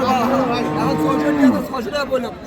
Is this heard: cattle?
yes